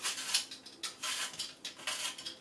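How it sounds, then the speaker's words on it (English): Apples being peeled by hand in a kitchen: a quick series of short, crisp scraping strokes, close and fairly quiet, with no talking. "Peel a couple of apples."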